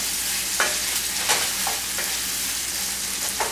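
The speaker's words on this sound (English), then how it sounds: "we're going to throw in our 1 onion that has been diced, and we're going to stir these together and let them saute" Diced onion sautéing in a pan makes a continuous bright sizzle, broken by occasional scraping stirs of a utensil, close and steady throughout, with no voices.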